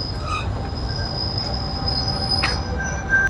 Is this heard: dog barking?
no